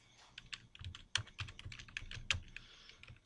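Keyboard typing on a computer while entering text in Photoshop CS5, a quiet, irregular run of soft clicking keystrokes with a few sharper taps, close and alone.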